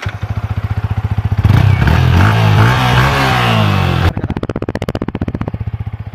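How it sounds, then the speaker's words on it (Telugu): A Yamaha MT-15 150cc motorcycle exhaust, loud and close: a steady idle thrum, then a sharp rev that rises and falls, and back to a pulsing idle. "ఒకసారి దీని ఎగ్జాస్ట్ సౌండ్ విందాం ఎలా ఉంటుంది ఏంటి అనేది."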